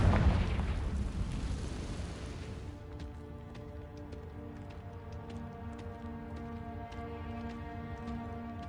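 A Confringo spell blast in a wizard video game erupts as a loud, booming explosion that rumbles for a couple of seconds and then decays into a quiet, sparkling ringing tail.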